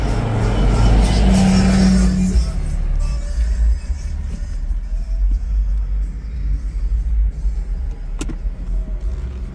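A C7 Audi A6 3.0T fitted with billet transmission and differential inserts pulls away on a test drive, a loud rising engine rumble at first that settles into muffled cabin road noise, with a sharp click late on.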